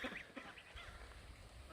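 Ducks quacking at close range, several quick nasal calls at the start and again near the middle over a low background rumble.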